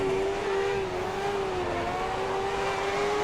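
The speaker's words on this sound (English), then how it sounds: "There goes Vettel." A Formula One car whines past in F1 2010, its engine a loud, steady high-pitched drone that shifts slightly in pitch as it goes by, alone without talk.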